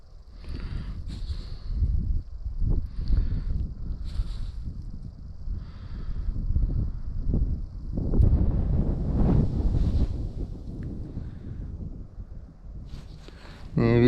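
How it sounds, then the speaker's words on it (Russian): Wind buffets the microphone at a lake during spring perch fishing in bad weather, a low, rumbling roar that rises and falls, with occasional faint knocks and distant voices. "Ветер есть."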